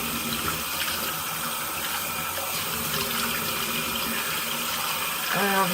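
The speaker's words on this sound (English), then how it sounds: "rinse with warm water and pat dry" Warm water runs steadily from a tap into a bathroom sink while a face is rinsed, a continuous close splashing hiss that swells briefly near the end.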